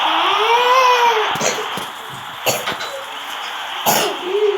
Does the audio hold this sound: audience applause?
no